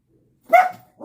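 A dog gives one sharp, close bark followed by a softer, shorter yip in an otherwise quiet indoor room.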